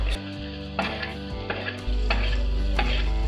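Potato and peanut khichdi frying in a pan as turmeric and salt are stirred in, close sizzling with a few distinct scrapes and clinks of the spoon against the pan over a steady low hum.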